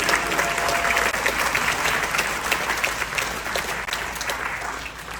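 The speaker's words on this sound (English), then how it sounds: "So please give yourselves a round of applause for an amazing job" A cruise ship audience gives a sustained round of applause, dense clapping filling the room steadily from start to finish with a faint murmur of the crowd beneath.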